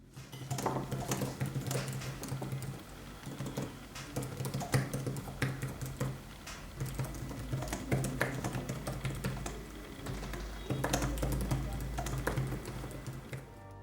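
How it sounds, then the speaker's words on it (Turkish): Soft, fairly quiet key taps patter irregularly on the full-size detachable keyboard of a Huawei MateBook E 2-in-1, close up with faint low background hum and no clear speech. "440 gram ağırlıktaki klavye tam boy klavye olarak karşımıza geliyor ve genellikle sessiz çalışıyor diyebiliriz"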